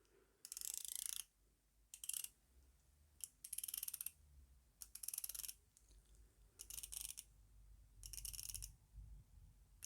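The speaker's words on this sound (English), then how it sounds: "It's a 120 click unidirectional bezel" Unidirectional 120-click bezel on a Phylida Seamaster-style homage watch ratcheting as it turns, in several bursts of rapid, crisp, closely spaced clicks separated by short pauses, close and fairly quiet.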